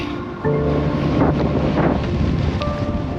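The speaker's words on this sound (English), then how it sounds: "That wind is picking up." Gusting wind buffets the microphone on an exposed Lake District fell summit, a loud, rumbling roar that swells after a brief quieter start and persists steadily throughout.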